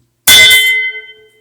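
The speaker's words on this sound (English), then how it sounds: "subscribe, ring that bell" A single bright bell ding, struck once, loud and close, followed by a shimmering ring that fades away within about a second.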